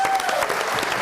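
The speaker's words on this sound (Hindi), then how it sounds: "बहुत सारी तालियां हनी अलबेला के लिए" Dense, steady applause from a television studio audience for a comedian during an Eid special broadcast, a short continuous burst at full volume.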